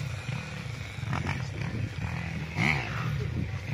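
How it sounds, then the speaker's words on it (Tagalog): Big motocross motorcycles revving somewhere on a rural farm lot with rice paddies in Nagcarlan, Laguna. A distant engine roar surges and rises in pitch around the middle of the stretch over a steady outdoor background. "Yung nagmumotor na malaking motor."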